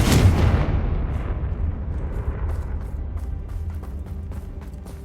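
Confringo blasting curse in Hogwarts Legacy, a single loud, deep explosion up front that decays into a long rumbling tail with faint crackling debris.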